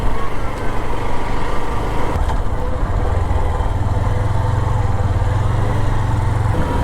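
A motorcycle rides along a road with a steady, loud engine drone and wind rumble that continues without a break.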